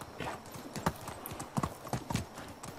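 Hooves of a horse walking in the medieval life-sim game Medieval Dynasty, a quiet, uneven series of clip-clop steps with a faint snort, heard alone.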